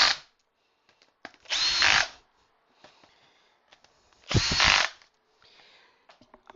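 Power drill driving screws to mount a faceplate onto a walnut log for woodturning, heard as two short, loud whirring bursts separated by quiet pauses and faint handling clicks.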